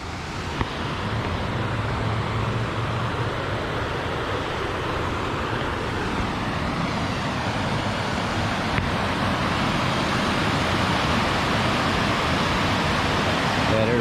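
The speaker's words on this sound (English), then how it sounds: "there's the waterfall over there" A waterfall in Cascade Park, New Castle, Pennsylvania gives a steady, even rushing roar that fills the whole stretch without a break.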